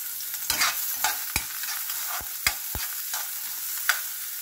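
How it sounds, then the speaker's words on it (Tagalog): Ginger and onion sautéing in olive oil in a pan, with a steady soft sizzle under sharp clicks and scrapes of stirring, a few distinct knocks standing out, close and fairly quiet. "gagamit po tayo ng olive oil at ilagay po natin ang ating luya at sibuyas."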